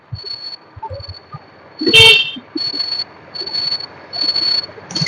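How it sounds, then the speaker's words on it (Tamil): A car horn gives a short, loud honk amid quiet road noise during a driving-lesson turn, followed by softer tonal beeps and hum. "ஹாரன் அடிங்க"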